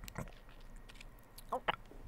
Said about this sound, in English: How is he swallowing so loud?